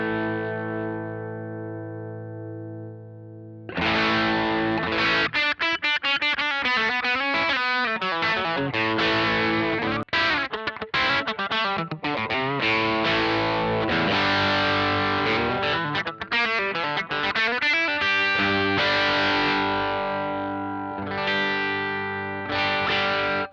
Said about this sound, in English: Very amp-like distortion.